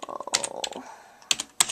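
Keys on a computer keyboard being typed in short bursts, a quick run of taps followed by a pause and then a few isolated sharp clicks, close and fairly clear with no talking.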